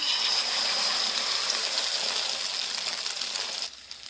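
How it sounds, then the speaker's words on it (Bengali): A loud, steady hiss and crackle of an egg sizzling in a hot pan with fried tomato, easing off slightly near the end. "এতে ডিমটা দিয়ে দিলাম"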